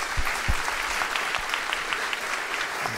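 Audience applause fills a school gym set up as a performance space for a Grandparents Day concert: steady, moderately faint clapping with a few sharper claps near the start, and no voices over it.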